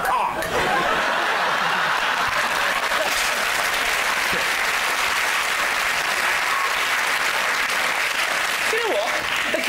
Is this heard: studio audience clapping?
yes